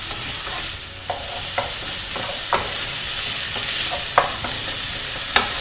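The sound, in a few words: chorizo and garlic frying in a pot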